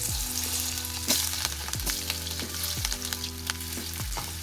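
Chopped potatoes fry in hot oil for a matar nimona green peas curry, giving a steady close sizzle with repeated scraping stir strokes and light clatter throughout, no talk.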